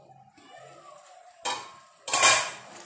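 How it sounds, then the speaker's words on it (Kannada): A lid placed on a cooking pot while vermicelli pulao seasoning cooks, a quiet kitchen hum broken by two metallic clanks, the second louder and ringing briefly. "ಸ್ವಲ್ಪ ಬೇಯಲಿ ಒಗ್ಗರಣೆಯಲ್ಲಿ ಮುಚ್ಚಳ ಇಟ್ಟು ಬಿಡುವ ನಾವು"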